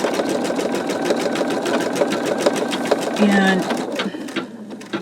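An embroidery machine stitching a skull design, a steady fast rhythmic needle chatter running throughout, close and loud, with a person speaking briefly over it.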